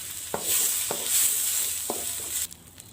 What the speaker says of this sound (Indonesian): Dan sekarang saya masukkan wortelnya. Lalu saya tumis dulu sebentar.